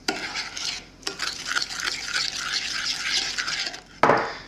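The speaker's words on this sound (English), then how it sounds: "going to add a teaspoon of vanilla. I'm going to give it a good mix." Tart batter with vanilla is mixed in a bowl, with close, continuous scraping and swishing strokes, a brief pause near the start and a sharper clatter near the end.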